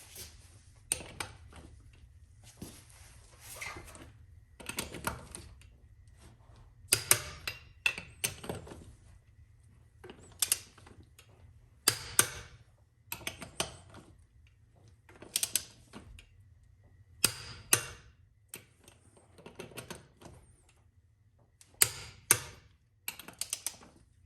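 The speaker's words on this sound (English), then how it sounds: "we're going to use 110 Newton meter or 80 foot-pound setting on the torque wrench" A torque wrench set to 80 foot-pounds tightens the wheel lug nuts on a 1985 Chevrolet Caprice Classic, heard as a series of sharp, close metallic clicks and clacks at irregular intervals over a low steady hum.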